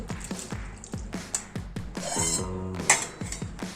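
Soaked ration rice being rinsed by hand in a vessel, with repeated splashes, drips and clinks of the pot as water is swirled and poured, close and fairly quiet.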